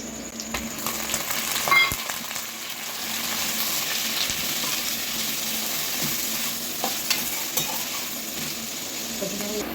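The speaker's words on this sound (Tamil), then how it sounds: "இரநூறு கிராம் மட்டன் எடுத்துருக்கேன், சின்ன பீஸாக கட் பண்ணி வச்சுக்கிறேன், அதையும் சேர்த்துக்கிறேன்." Small pieces of mutton fry in a pan, a steady close sizzle with occasional clinks and scrapes of a spoon against the metal.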